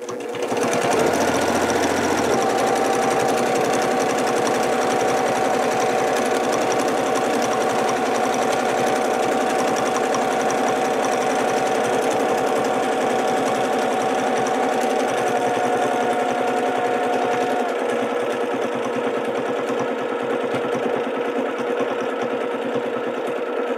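A domestic sewing machine stitches continuously during free motion quilting, a loud, fast, steady mechanical hum and rattle running without pause for over twenty seconds, with slight shifts in speed.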